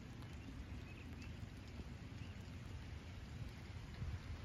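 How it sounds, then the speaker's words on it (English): Steady rain falls outdoors in Holland, Ohio, a continuous broad hiss at an even, moderate level, with no voices and no individual drops standing out. "It is raining out here,"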